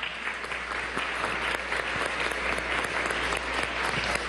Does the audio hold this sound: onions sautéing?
no